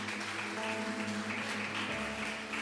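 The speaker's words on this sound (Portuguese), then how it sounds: "Vamos aplaudir o Senhor bem forte," A church congregation clapping steadily and loudly in praise during a worship service, a dense continuous patter laid over sustained organ or keyboard chords.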